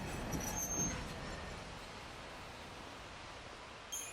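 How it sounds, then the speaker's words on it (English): Train ambience from the Final Fantasy Lightning Returns video game: a steady, quiet rumbling wash with a slightly busier start, holding evenly throughout, with a brief brighter sound near the end and no talk. "The train will leave shortly."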